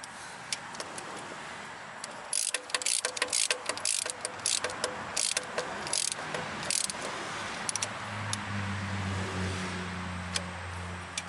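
Ratchet tightening bolts on a Miata turbo kit, quick bursts of rapid close clicking strokes with pauses between, over faint background hum.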